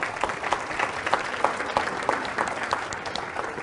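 An audience claps steadily for a guest called up from the crowd at a money-making seminar, a dense, continuous patter of many hands filling the room at moderate loudness, with no voices rising above it.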